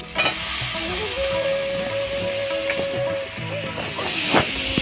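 Pumpkin pieces frying in spiced masala in a pan while being stirred: a steady close sizzle and crackle with scraping stir strokes and occasional clinks, no talking.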